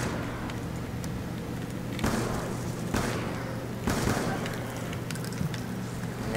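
Gunfire from a mini-shotgun-like weapon shooting zombies in the PC game Black Ops 2 Zombies: several loud sharp blasts spaced about a second apart over a steady droning game background.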